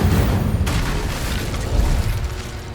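An Incendio fire spell blasting in Hogwarts Legacy on PS5, a loud booming burst with a rumbling, crackling tail that rolls on under continuing combat noise.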